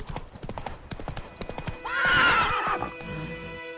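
A horse's hooves clip-clop in a quick trot, then a loud, drawn-out neigh rises over them before the hoofbeats carry on more faintly.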